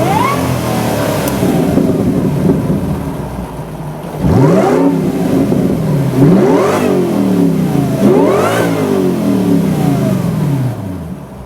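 A sports car engine revs hard several times, each sharp rise in pitch falling back between bursts, loud and close with a steady engine drone underneath.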